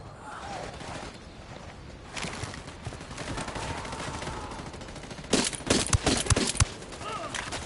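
Automatic gunfire in Ghost Recon Wildlands rattles in steady bursts, then grows into louder, sharper volleys near the end, with a voice speaking during the shooting.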